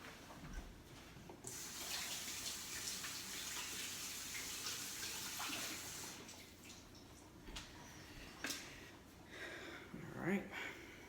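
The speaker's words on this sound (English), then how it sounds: "Let me rinse this off." Running tap water rinses a white utensil in a kitchen, a steady broadband wash with some sputtering splashes toward the end, while a person talks over it.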